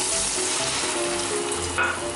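Coated taro (arbi) pieces fry in hot oil for chilli manchurian, giving a close, continuous dense sizzle and crackle with no talk over it.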